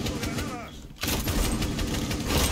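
Rapid gunfire in the tactical shooter Rainbow Six Siege, a dense burst of shots after a brief lull, continuing steadily and fairly close while players talk.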